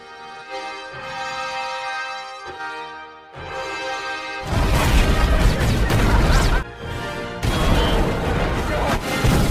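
Loud explosive crashes and booming blasts from the Old Bailey building being blown up in a film burst out over an orchestral music score, with heavy rumbling impacts continuing through the second half.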